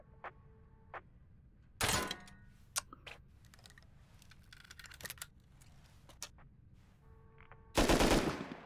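Two loud bursts of rapid automatic gunfire in the survival game Rust, set around a container ship, separated by several seconds of quieter scattered shots and clicks, with no talking.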